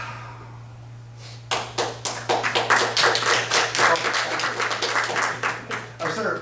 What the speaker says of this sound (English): I started applauding because I hear people applauding up there.